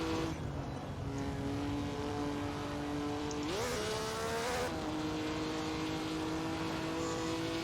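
Vintage 1955 Formula 1 race cars in Assetto Corsa at the Belgian circuit: a steady, high engine whine holds its pitch, then sweeps up sharply as a car passes close by, with another engine droning underneath.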